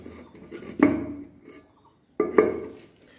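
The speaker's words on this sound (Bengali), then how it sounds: "এদিকে দিয়ে দিলাম ভাতের ঢাকনিটা" A metal lid is set onto a rice pot twice, each placement a sharp close clank with a short ringing tail, separated by quiet kitchen handling.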